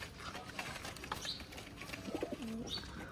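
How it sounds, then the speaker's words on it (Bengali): Khulna naktona pigeons give soft, low cooing calls, a short rolling coo near the end over light background chatter and faint chirps, fairly close and moderate in level. "এটা হচ্ছে আমাদের খুলনার নাককাটা কবুতর"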